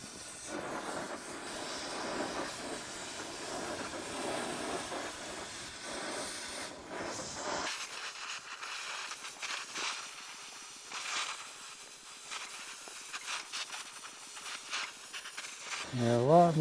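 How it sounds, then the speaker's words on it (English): Half-and-half acetone and ATF oil boiling on rusted metal under heat: a broad steady hiss like escaping steam, denser for the first half and then thinner, with a brief louder burst at the very end. "you can see the oil starting to boil right there."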